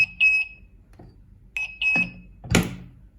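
Alarm from the door sensor on a CI690S machine: short, bright electronic beeps repeating in a few bursts, fairly close and clear, mixed with some handling thuds and a louder knock near the end, no talking.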